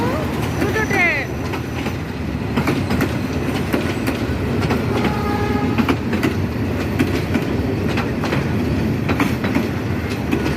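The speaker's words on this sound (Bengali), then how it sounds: "অনেক বড় একটা ট্রেন। দেখো দেখো দেখো দেখো দেখো, দুটো ট্রেন।" Two trains passing on a railway, a long loud rumble with clickety-clack of wheels and a brief squeal and horn-like tones, nearby and continuous, with a person's voice audible over it.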